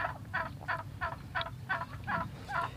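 A domestic turkey gobbles in a rapid series of eight or so pulsing calls, fairly close and steady in rhythm over a low background hum.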